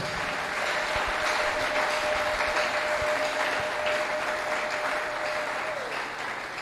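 A church congregation claps and cheers for the Lord Jesus in steady, dense applause that fills the space for several seconds, with a sustained tone running underneath.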